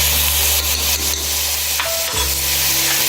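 Onions and minced garlic sizzle loudly in a pot of beef for chili, a continuous close frying hiss with stirring scrapes and no talk.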